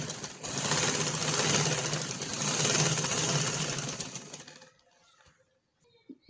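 A sewing machine stitches a trouser leg seam on a poncha-style garment, a steady rapid whirring hum for about four seconds that then stops, followed by faint handling sounds.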